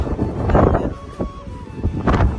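Cold seaside wind buffets the microphone in loud, uneven rumbling gusts at an offshore stop overlooking the water.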